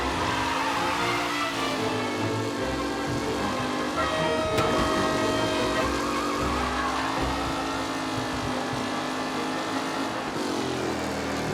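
Vintage race cars roaring around a track in Mafia Definitive Edition, a loud dense wash of engines with tire squeal and skidding, steady throughout with no voices.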